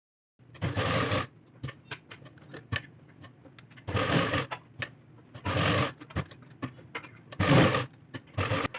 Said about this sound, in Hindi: यहाँ पे बिल्कुल इसके साथ साथ किनारी किनारी पे सिलाई लगाएंगे